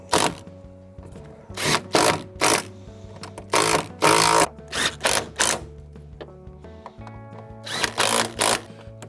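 A ratchet wrench tightens door hinge bolts on a Nissan Patrol in a series of loud, rapid clicking bursts separated by short pauses, close up with no talking.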